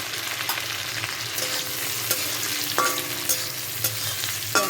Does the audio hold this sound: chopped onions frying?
yes